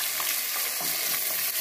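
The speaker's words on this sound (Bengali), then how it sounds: "কই মাছটা ভেজে নিচ্ছি আগে ভালো করে" Koi fish (climbing perch) fry in hot oil with a steady, dense sizzle and crackle, close and unbroken throughout.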